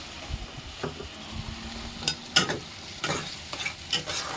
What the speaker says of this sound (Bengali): এখন ভাজার সঙ্গে সঙ্গে আমি পেঁয়াজ বাটাটাও দিয়ে দিলাম, দুটো একসাথে ভাজা হবে।